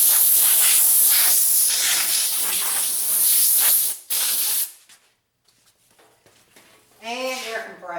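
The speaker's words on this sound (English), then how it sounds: "And air compressor again." Compressed air blasts clean dust out of an old 2004 gaming computer, with a loud continuous hiss that cuts off, bursts briefly again and stops, followed by a short bit of voice.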